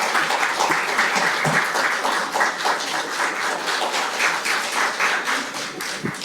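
Loud, dense applause from a policy forum audience in Busan welcoming a speaker, steady clapping throughout with a few louder thumps near the end.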